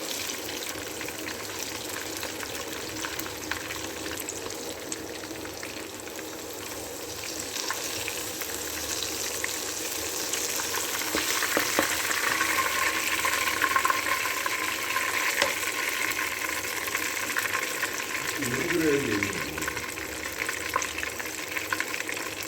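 Fish pieces fry in hot oil in a home kitchen, a continuous hissing sizzle that swells slightly midway and holds steady, with a brief utensil scrape near the end and no talking.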